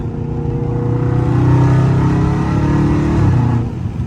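Loud Dodge Charger Scat Pack engine revving hard in traffic, a steady deep roar that climbs and swells around the middle, then drops back abruptly near the end as it shifts, heard up close with no talking.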